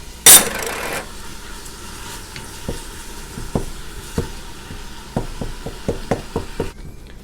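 Lean ground beef browning in a Ninja Foodi pot, a soft steady sizzle broken by a sharp clatter near the start and then a run of crisp scraping clicks as a utensil breaks up the meat.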